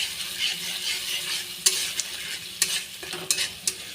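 Spice masala with whisked sour yogurt being stir-fried over low heat for a katla fish curry: a steady soft sizzle with a few sharp spoon scrapes and clicks against the pan, close and fairly quiet, no voices.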